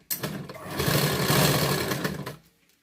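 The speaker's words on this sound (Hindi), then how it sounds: "इस तरह से 5 नंबर की सिलाई इसको दे दीजिए" A sewing machine running a long straight basting stitch on a blouse, one steady whirring burst of about two seconds that starts abruptly and cuts off, close and alone.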